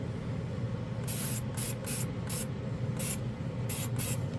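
Spray gun laying down SMS metallic metal paint in repeated short hissing bursts of uneven length with brief pauses between them, set against a constant low background rumble and heard without any talk.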